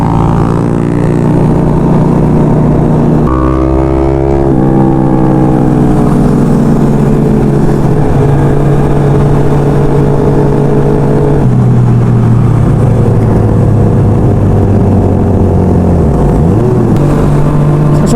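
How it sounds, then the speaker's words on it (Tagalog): A large group of Kawasaki big bike motorcycles on a club ride, their loud mufflers revving and droning together continuously, engine pitch rising and falling through accelerations for the whole stretch. "halos hindi ko na marinig yung sarili ko sa ingay ng mga muffler nila guys"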